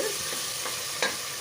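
Broad beans stir fry with spice paste being stirred in a pan, a constant sizzle of frying with a few soft scraping strokes and a brief clatter near the end.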